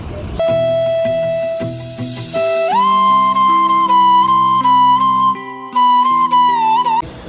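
A Bengaluru metro train ride carries a steady, loud run of electric tones that shift and hold in pitch, with changing mechanical hums and a brief break partway through.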